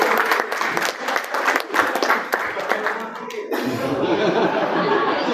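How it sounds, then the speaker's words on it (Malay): A small audience claps for a doctor invited up during a talk on supplements, a few seconds of scattered close clapping with chuckles, then a denser wash of applause to the end. "saya tepukan untuk Dr. Fadli"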